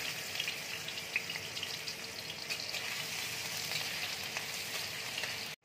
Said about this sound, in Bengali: তেল দেখো গরম হয়ে গেছে। এবার আমি রসুন কুচি দিয়ে দিচ্ছি, আদা কুচি দিয়ে দিচ্ছি